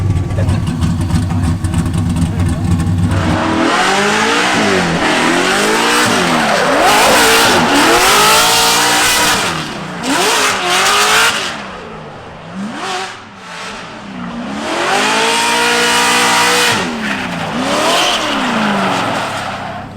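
A 1000-horsepower 2JZ-swapped BMW E36 screams on throttle, its engine rising and falling through repeated high revs with tires squealing, loud and close for the whole stretch, with people talking faintly underneath.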